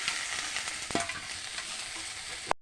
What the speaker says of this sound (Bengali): আলুগুলো দিয়ে দিই ভেজে রাখা